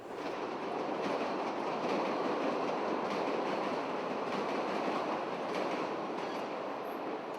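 An elevated Chicago Loop train rumbles past on its rails, a broad steady roar with faint clickety-clack and light wheel squeal, holding level for several seconds with no voices.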